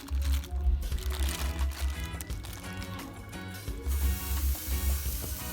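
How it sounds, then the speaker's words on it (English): Seasoned jerk chicken pieces sizzling on a very hot grill, a steady loud crackling hiss running throughout with fat popping, no talk. "sizzling. Yeah man, the grill well hot."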